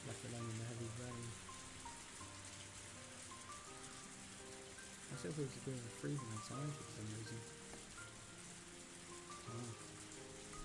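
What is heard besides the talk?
heavy rain from the Higurashi visual novel game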